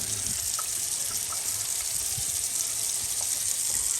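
A kitchen faucet runs steadily, its water hissing and splashing into the sink at close range for several seconds without a break, with no speech.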